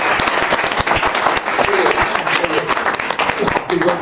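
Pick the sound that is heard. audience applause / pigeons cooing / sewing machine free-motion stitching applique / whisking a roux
audience applause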